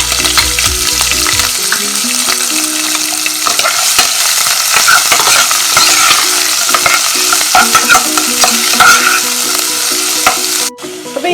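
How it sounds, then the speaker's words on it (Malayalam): Sliced onion, dried red chillies, green chillies and curry leaves frying in a pan sizzle loudly and continuously, with frequent scraping stirs throughout, while background music plays underneath. "ഇനി നമുക്ക് അതിലേക്ക് സവാള, വറ്റൽമുളക്, പച്ചമുളക്, വേപ്പില ഇതൊക്കെ കൂടി ഇട്ടിട്ട് ഒന്ന് നമുക്ക് വഴറ്റിയെടുക്കാം."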